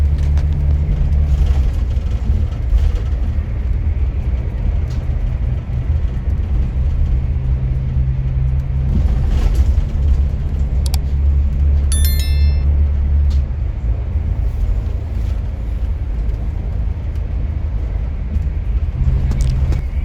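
Heavy, slow-moving traffic on a busy Indonesian toll road rumbles steadily as heard from inside a moving intercity bus, with engine drone and road noise throughout and a brief faint beeping near the middle.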